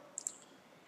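A computer mouse gives two quick, faint clicks in close succession in a quiet room, short and crisp against a low background hiss.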